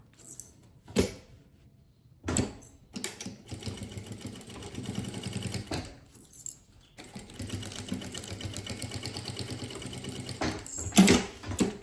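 Sewing machine running a straight seam on a small suitcase at 3.5 stitch length with backstitching, heard as close mechanical whirring bursts that start and stop, with one long steady run in the middle.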